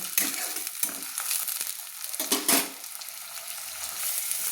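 Onions and green chillies frying in a pan as they are stirred, a steady close sizzle broken by several scraping and clinking spatula strokes, with no talking.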